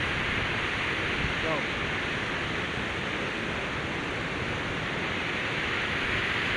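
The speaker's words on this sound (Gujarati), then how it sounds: "આ નદી છે ને એ આપણે ઘર આગળ ફૂગી આવી છે" The Sani river, swollen with floodwater after rain, rushes past close by in a steady, dense roar that continues unbroken from start to finish with no pauses.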